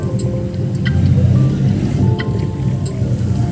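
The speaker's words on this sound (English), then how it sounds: "The first time we will visit by motorboat." A motorboat carries visitors into a Melaleuca forest, its steady low engine drone rumbling continuously up close with faint water noise and occasional small clicks on top.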